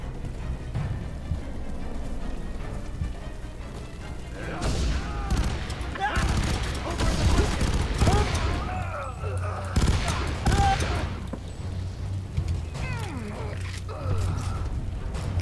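Rapid bursts of small-arms gunfire from the shooter game F.E.A.R. 3, dense and continuous with booms and mechanical clatter, heard alongside someone talking.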